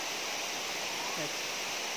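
Water pours down at Mamedias Falls in a constant, full rushing roar, with a faint voice barely surfacing midway.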